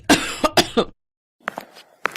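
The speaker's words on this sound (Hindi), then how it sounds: "क्या हुआ दादी माँ, आपको खांसी हो रही है?" An elderly woman coughs hard four times in quick succession, pauses briefly, then coughs again in a weaker, raspier burst, close and with no talk.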